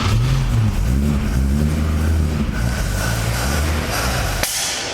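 A Holden LJ Torana engine, freshly refurbished and running cold, revs with a couple of throttle blips, a loud steady roar that rises and falls before cutting off near the end.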